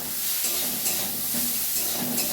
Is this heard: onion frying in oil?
yes